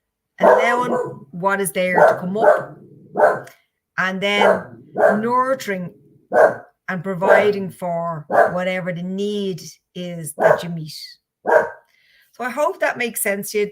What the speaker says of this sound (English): So I apologize for the barking in the end.